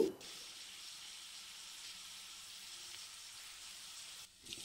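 Cluster beans with salt and chili powder fry in a pan, giving a steady, close sizzle and hiss that runs unbroken before a brief dip near the end.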